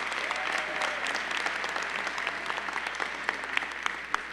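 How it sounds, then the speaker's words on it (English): An audience at a university matriculation convocation applauds, a steady round of clapping from a large hall crowd that holds for several seconds with sharper individual claps near the end. "Would you give him a round of applause?"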